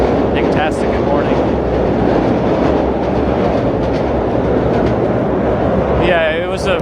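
A Long Island Rail Road train rolls past on an outdoor New York City street near the Williamsburg Bridge, a loud continuous rumble with clattering wheels, joined by brief speech in passing.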